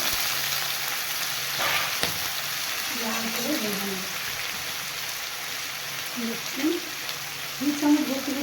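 Potatoes and carrots frying in a pan with salt, a continuous soft sizzle with occasional stirring knocks, while a person talks intermittently over it.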